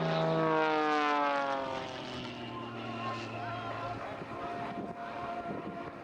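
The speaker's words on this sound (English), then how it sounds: "the power of the engine enabling it to almost hover in the sky" A Matadors aerobatic propeller aircraft drones overhead at the Southport air show, loud at first with a sliding engine pitch, then settling into a steady distant hum while a commentator talks over it.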